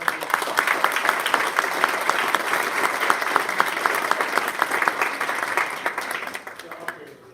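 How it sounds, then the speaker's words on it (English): Audience at a school DARE graduation giving a round of applause, sustained dense clapping that holds steady before thinning out toward the end, with voices mixed in. "I'll give Pat a round of applause."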